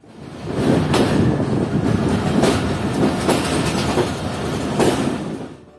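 The 15 Up Karachi Express rolls toward platform 5 at Multan Cantt station, a steady loud rumble of wheels on rails with rhythmic clacking beats and occasional faint squeals, continuous throughout with no talk.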